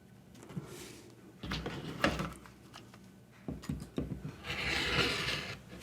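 A rotary cutter run along a ruler trims a quilt fabric edge square, giving close scraping, rasping strokes in a few bursts, with a longer steady pass near the end.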